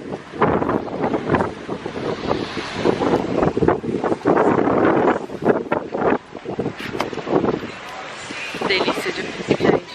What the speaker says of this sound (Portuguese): Só de ouvir o barulhinho das ondas pra mim já é maravilhoso